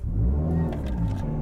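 A Subaru WRX with a boost fault drives along a road, its engine giving a steady, loud mid-range hum with a slight rise in revs, heard from inside the car.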